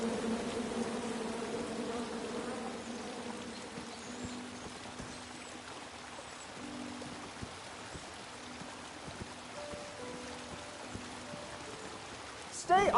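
Angry bees from a tree in a forest in the King's Quest video game make a steady buzzing drone that runs throughout, mixed with soft tonal game music and a brief louder burst at the very end.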